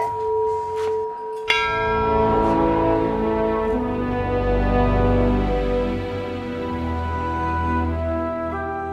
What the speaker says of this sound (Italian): E Susie, per ritornare a Marostica bisogna fare il rito, suonare la campana